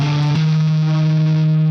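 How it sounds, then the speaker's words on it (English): A distorted electric guitar sample rings out loud and alone, a sustained processed tone whose pitch shifts once early on, then holds steady and buzzing with effects coloring, with no one talking over it. "I just add a sine wave, a electric guitar,"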